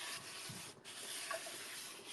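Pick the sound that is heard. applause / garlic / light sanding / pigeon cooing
light sanding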